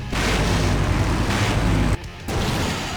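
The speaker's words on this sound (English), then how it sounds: "Now that's an explosion, ladies and gentlemen." A loud, sustained explosion from the video game Full Throttle Remastered: a heavy, rumbling blast that fills the scene, cutting out briefly near the end before the roar resumes.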